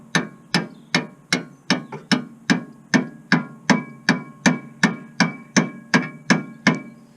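A bolt is hammered into place with about fifteen sharp metallic blows, loud and close, struck at a steady, even rhythm of roughly two per second with no talk.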